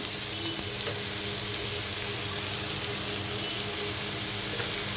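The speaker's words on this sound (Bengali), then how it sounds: "আমার পেঁয়াজটা ভাজা ভাজা হয়ে গেছে এবার আমি মরিচের গুঁড়া দিয়ে দিলাম" Onions fry in hot oil for a beef bhuna with a constant, dense sizzle and crackle that stays even from start to end.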